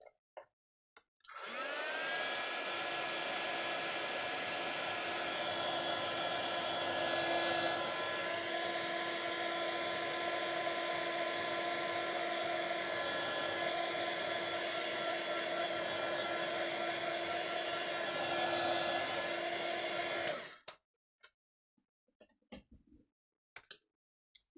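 A hair dryer blows steadily on a freshly painted art journal page, an even, whooshing hum that starts abruptly, holds for nearly twenty seconds, then cuts off, leaving a few faint taps.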